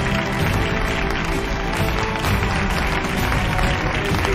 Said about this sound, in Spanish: Un aplauso, Clara.